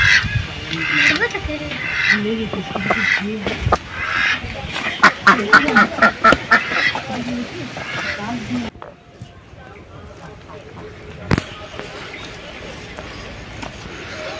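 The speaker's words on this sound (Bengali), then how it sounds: "এটা হচ্ছে রানী হাঁস বলে, এ আমাদের যে দেশি হাঁসগুলো পাতি হাঁস হয় তার থেকে একটু বড়।" Rani ducks, a breed a bit larger than common local ducks, quacking in a rapid burst of calls amid outdoor background noise, with people talking before and around them.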